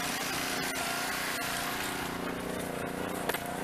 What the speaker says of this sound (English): Tough power washer though, by the way.